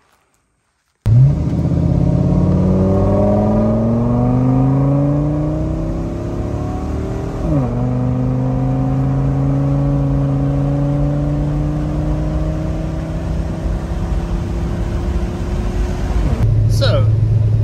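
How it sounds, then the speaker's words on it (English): Ford Excursion truck fitted with black wheels and smaller 31-inch tires pulls away and accelerates hard, engine note climbing through the gears with a clear shift midway, loud and close, a voice heard briefly. "I'm just going to rock these black wheels with these smaller tires and take it for a ride"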